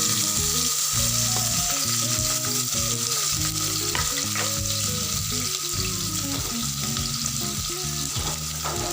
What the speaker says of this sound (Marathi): तेल गरम झालं की आपण ह्याच्यात टाकणार आहोत कांदा